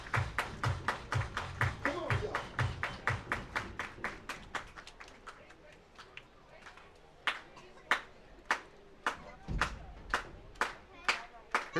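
A baseball crowd at an IBL playoff game, Toronto Maple Leafs at Barrie Baycats, claps in quick rhythmic unison. The clapping slows into sparser, sharper claps, with faint talk underneath.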